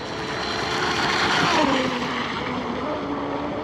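A vintage RC boat converted from nitro to electric power runs on water, its small motor whining steadily over a broad wash of water and wind noise, pitch sliding down slightly.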